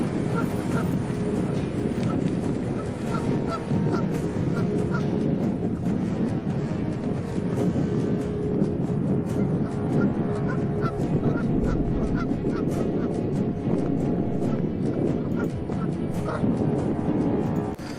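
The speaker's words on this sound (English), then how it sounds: "Geese are territorial." Territorial geese honking loudly and continuously, a dense chorus of many birds nearby with repeated harsh calls and a steady background roar.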